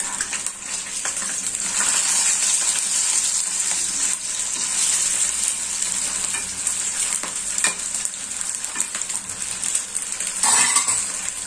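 Fish frying on a dosa griddle as it is flipped: a loud, constant sizzle with metal spatula scrapes and clinks against the griddle, and a sharper scraping burst near the end.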